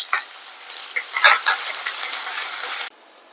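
Onion frying in a pan for a chicken and amaranth curry gives a soft, steady sizzle with a few scraping stirs, then stops abruptly.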